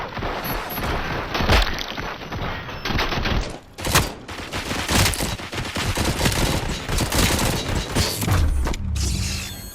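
Dense gunfire from the game RoboCop: Rogue City, rapid bursts and booming shots with mechanical clanks, loud and nearly continuous with brief pauses.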